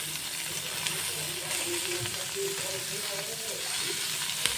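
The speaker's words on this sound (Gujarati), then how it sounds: "હવે આપણે એની અંદર બસો ગ્રામ જેટલું પનીર એડ કરી દઈશું ઘીની અંદર" Paneer frying in ghee over a low to medium gas flame gives a steady, close sizzling hiss with faint crackles and an occasional small pop throughout.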